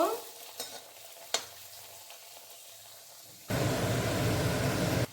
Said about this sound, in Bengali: এরপরে গ্যাসের আঁচ একদম কম করে এটা আমি ধীরে ধীরে ধীরে ধীরে ভেজে নেব